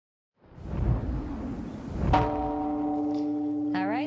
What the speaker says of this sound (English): Oh, look. That's a new gong.